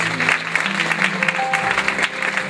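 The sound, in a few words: audience applause after a dance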